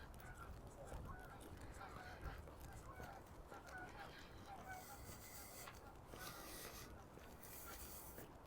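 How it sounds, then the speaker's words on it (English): Geese honking by Wascana Lake in Regina, a scatter of distant calls over steady outdoor ambience, with a voice talking quietly at times. "More geese."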